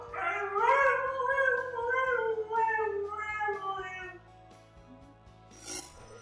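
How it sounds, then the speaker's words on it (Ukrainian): Huskies howl and croon in long, wavering, rising and falling tones, several voices overlapping up close, then fading to quieter whines. "Ви точно бачили ці кумедні ролики в інтернеті із завиваннями та гучним співом цих красивих великих псів."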